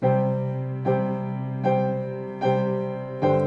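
Piano notes are struck in a steady pattern, five evenly spaced attacks that ring and fade slightly, played alone at moderate volume.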